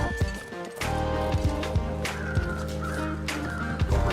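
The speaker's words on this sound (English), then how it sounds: "More crows. Little crow party over here." Crows cawing in the video game The Long Dark, repeated harsh caws from several birds at a moderate distance over a steady ambient game hum, with intermittent light thuds.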